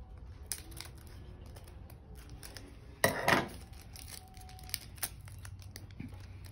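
Scissors snip and tear open the packaging of a Pokémon card box, with a loud crinkling cut in the middle and scattered small clicks and rustles around it, close and quiet overall.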